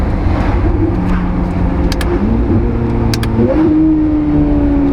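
A C8 Corvette with magnetic paddle shifters droning steadily from inside the cabin, with the engine tone stepping and rising as it shifts gears, a few faint clicks heard over the constant road and engine rumble.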